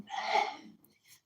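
A single short, breathy sneeze bursts out close by, followed by a faint trailing breath.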